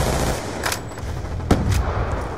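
Gunfire in Call of Duty Black Ops 2 on the Nuketown 2025 map, with a few sharp close shots and a louder crack midway over a dense, steady game background.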